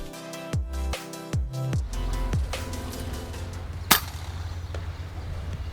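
A single shot from an FX air rifle firing an 18 grain pellet during a long-range hunt rings out as one sharp, loud crack, preceded by a few soft mechanical clicks and followed by low outdoor ambience.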